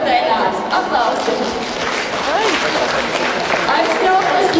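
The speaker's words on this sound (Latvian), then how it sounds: "Aplausi!" An indoor crowd at a business award ceremony applauds with dense, steady clapping, loud and close, while a voice speaks over it.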